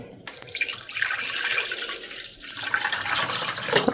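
Water gushes from a tap into a vessel holding silverware, a loud continuous splashing stream that shifts in pitch as it fills.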